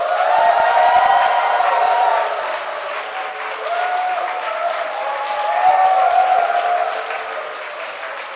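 A church congregation applauds and cheers for a pastor stepping up at a Friday evening worship service, a dense, loud, sustained wash of clapping and crowd voices throughout, with no speech.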